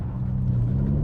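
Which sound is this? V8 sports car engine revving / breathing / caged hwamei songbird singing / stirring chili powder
V8 sports car engine revving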